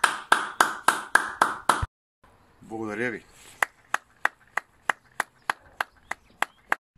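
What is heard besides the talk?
applause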